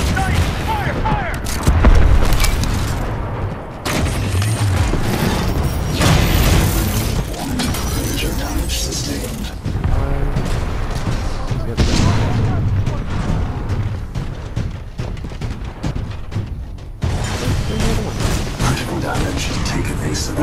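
Weapons firing in a Titanfall-style mech game with a Ronin Titan, heavy booming blasts, mechanical clanks and repeated gunfire bursts over roughly twenty seconds, with voiced commands and announcer lines mixed in.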